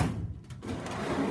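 A storage drawer for embroidery floss sliding open, a short scraping rumble with a couple of faint clicks over room noise, close and moderately loud.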